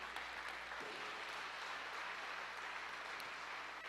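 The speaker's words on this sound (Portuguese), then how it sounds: "Você pode aplaudir a Jesus" Church congregation applauding during a sermon, a steady wash of clapping that holds evenly throughout without individual claps standing out.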